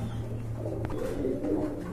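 Fancy pigeons such as Kashmiri Lahori, Chuital and Naira birds coo softly in a steady low rolling burble, close but quiet, with no voices.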